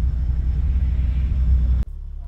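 At a rainy autocross at PIR, a car engine idles with a deep, steady low rumble close by that abruptly drops to a quieter hum near the end.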